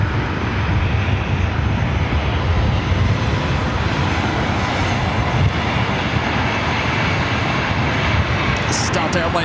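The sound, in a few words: Boeing 737-900ER airliner engines at LAX airport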